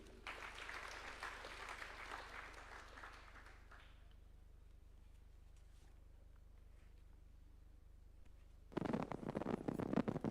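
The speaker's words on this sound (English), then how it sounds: "A round of applause for him." Faint applause from an audience at a judges' swearing-in ceremony at State House, Nairobi, fades out within a few seconds into quiet room tone before a louder, sudden burst of noise near the end.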